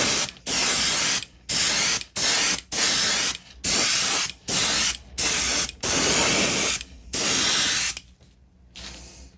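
Airbrush spraying thick glitter paint onto a fishing lure in a digital camo winter crappie pattern, loud hissing bursts in about nine rhythmic passes with brief gaps, close and alone, ending in quiet.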